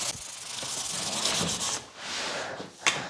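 Heated veneer edging is rubbed firmly down onto a curved drawer front, giving close, continuous rasping strokes in two long passes, followed by a short sharp scrape at the end.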